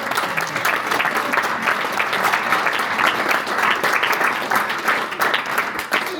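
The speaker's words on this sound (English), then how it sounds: "Round of applause." A round of applause from an event audience at an industry recruiting session for construction, engineering and manufacturing, with many hands clapping in a dense, even, sustained burst that fills the room and carries on steadily.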